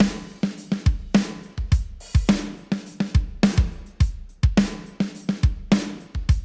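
Unprocessed, completely dry drum kit playing a beat, tight kick and snare hits in a steady repeating groove with cymbals, close and loud with no talking.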